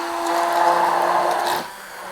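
A blender motor whirs steadily while mixing an egg and lemon sauce, a close, loud buzzing drone that cuts off near the end, leaving a faint hum.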